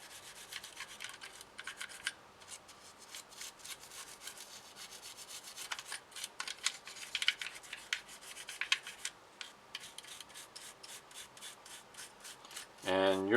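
Toothbrush scrubbing a new, unfired Taurus G3c pistol frame wet with gun scrubber to remove packing grease: steady, close bristly rubbing strokes in an irregular rhythm lasting throughout, with a brief sharper scrape at the very end.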